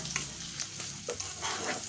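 Oil sizzles and crackles steadily as spices, turmeric and garlic fry, with a spoon scraping and stirring the pan in short bursts.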